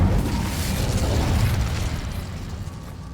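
The Incendio fire spell cast in Hogwarts Legacy, a loud, close whooshing burst of flame that roars at once and then slowly fades with a crackling rumble.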